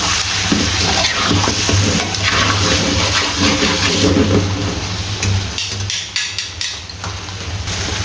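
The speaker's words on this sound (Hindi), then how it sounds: "अब इसके ऊपर धनिया डालना है और इसको करेंगे एक बार मिक्स।" Coriander being stirred into chicken karahi in a pan, a steady, loud scraping and sizzling stir that runs throughout with no talking.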